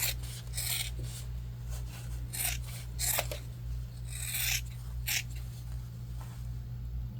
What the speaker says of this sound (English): We're also gonna cut our corners so that we can get a nice poke out.